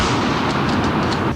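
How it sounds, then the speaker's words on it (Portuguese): A dense burst of loud, rattling gunfire from a gun salute volley at a police funeral fills the whole moment, several sharp reports overlapping with no pauses, close and harsh. "uma salva de tiros"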